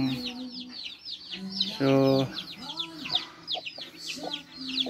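Upgraded native chickens on a provincial farm cluck and chatter in short repeated calls nearby, with one longer, louder drawn-out call in the middle, while a person speaks briefly.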